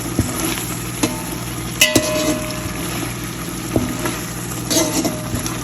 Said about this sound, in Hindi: ये देखें प्याज डालें, इसको करेंगे मिक्स